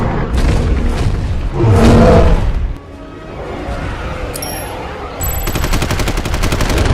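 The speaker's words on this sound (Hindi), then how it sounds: "भाई पूरी ताबड़तोड़ फायरिंग चल रही है यहाँ पे।" Rapid bursts of gunfire crackle through a loud dinosaur battle film scene, the Skullcrawler against Indominus Rex fight, with dense explosive crashes and a steady volley near the end, continuous and close.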